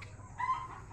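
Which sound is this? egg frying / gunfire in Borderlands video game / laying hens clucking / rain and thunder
laying hens clucking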